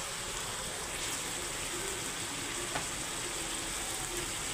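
Ground turmeric and spices frying and being stirred in a pan for a rohu fish curry with potato and cauliflower, a steady soft sizzle with no talk.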